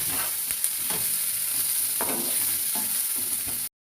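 Garlic and onion frying in hot oil, a steady close sizzle with occasional scraping stir strokes and brief clicks, without any talking.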